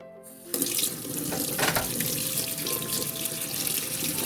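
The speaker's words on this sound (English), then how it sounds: "go ahead and wash the machine so it does not dry out." Tap water runs steadily while a MioMat plant-based milk maker is washed at a sink, a continuous close splashing stream starting after a brief quiet moment.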